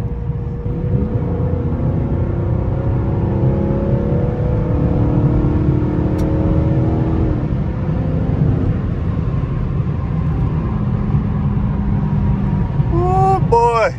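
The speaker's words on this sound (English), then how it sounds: "I'm about to do a little flyby for him" A Dodge SRT car passes in a flyby, its engine rising to a loud, sustained rev and whine over several seconds before fading, with a bird chirping briefly near the end.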